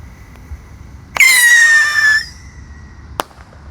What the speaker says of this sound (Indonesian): Selanjutnya yang kita nyalakan di sini ada roket Pirotor. Sudah menyala ya bosku.